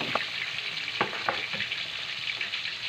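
Milkfish broth simmering and bubbling in a pot as vegetables are dropped in, with a steady sizzling hiss and a few soft splashes and clinks near the start and around the middle.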